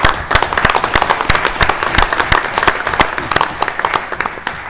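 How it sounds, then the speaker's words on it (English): Applause at a city council meeting, a room of people clapping steadily with sharp, distinct individual claps standing out near the listener. "I think you need a huge round of applause"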